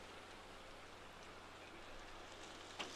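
Steady rain falls on a disc golf course, a faint, even patter and hiss throughout with one brief closer drip near the end and no talk.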